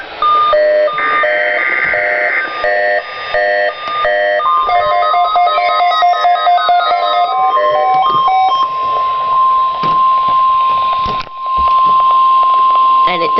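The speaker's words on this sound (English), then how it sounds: "This is a test of the Weather Service weather radio warning alarm" NOAA weather radio warning alarm test for north central Ohio: a loud electronic tone sequence of stepped beeps and warbling pitches, ending in a long steady alarm tone before it cuts off.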